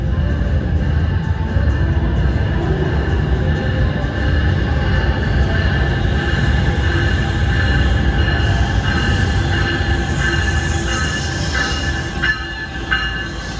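Passenger train 3361 bound for Bay Head rolls loudly and steadily through Newark Penn Station, a continuous rumble of wheels on rail with squealing and clicking, close by.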